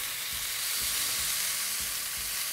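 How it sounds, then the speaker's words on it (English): Amberjack belly and collars searing in a cast iron pan, a soft steady sizzle with low handling thumps, fairly faint and alone. "Amberjack belly in a cast iron pan is money"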